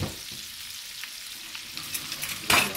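A pork roast sizzles in a pan after a drizzle of extra virgin olive oil, with quiet steady frying crackle and a louder burst of sizzle near the end.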